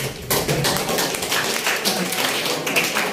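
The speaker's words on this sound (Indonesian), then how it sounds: "Aplaus untuk Pak Nawan" Applause from an audience at a talk for speaker Pak Nawan, a dense patter of clapping at fairly close range that runs steadily for the whole stretch.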